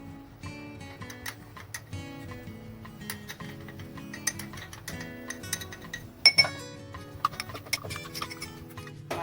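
A spoon clinks repeatedly against a glass or bowl while custard powder is stirred into a small amount of milk, with steady tapping and a few sharper knocks near the end, heard close up over faint background music.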